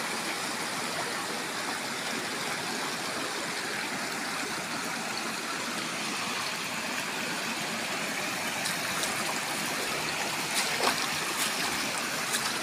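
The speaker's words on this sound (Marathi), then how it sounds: "इथून पाणी पुढे वाहून जातो। तो पाणी थेट नर्मदा मैयाला चालले। ही आहे झरकल नदी।" Jharkal river water flowing past a wooden check dam, heard as a steady, broadband rush that stays even throughout with no voices over it.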